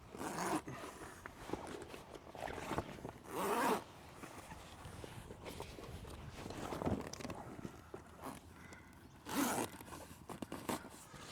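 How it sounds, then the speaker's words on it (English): A zipper on a camper-trailer tent is drawn across in several separate pulls, making quiet, close rasping runs with soft handling and shuffling noises between them. "And zip it across."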